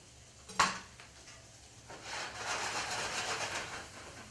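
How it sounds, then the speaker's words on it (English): Vegetable chunks sauteing in a pan, a sharp clink of utensil on cookware, then a soft steady sizzle and stirring rustle, close and without talk. "So I'm just cutting these in big chunks. We're just going to saute these for a minute."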